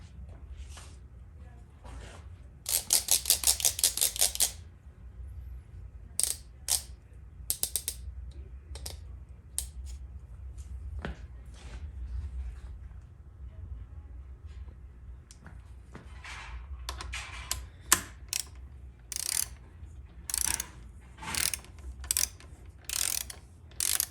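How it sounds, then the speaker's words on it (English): A hand ratchet with a 1/4 inch socket tightens the band servo adjusting screw on a Dodge 48RE transmission, giving short bursts of rapid clicking separated by pauses, close and fairly quiet, with no speech. "You're going to basically torque this down to 72 inch-pounds, and then you're going to back it off 3 turns."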